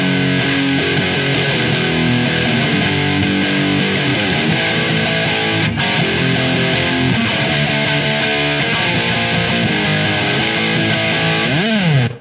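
A Fender JagStang electric guitar through a Boss DS-2 distortion pedal plays continuous riffs, heavily distorted, loud and saturated throughout with sustained chords, ending in a short bend before cutting off.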